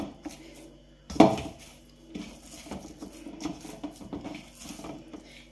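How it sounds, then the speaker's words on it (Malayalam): A bottle of oil is set down on a kitchen counter while making paratha: one solid close knock with a brief clatter, followed by faint scattered taps and rustling, no voices. "അതിന് ഞാൻ ഇവനെ എണ്ണക്കുപ്പി ഇങ്ങോട്ട് മാറ്റി വെക്കുകയാണ്"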